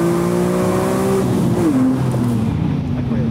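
A BMW M3 engine revs with rising and falling harmonic tones, shifting pitch as it accelerates, loud and close, then fades toward the end.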